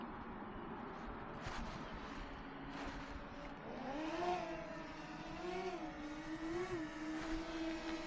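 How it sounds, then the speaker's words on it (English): Aircraft engines spinning up, with a low rumble giving way to rising, wavering tones that climb and settle into a steady hum, moderately faint. "We'll start the engines."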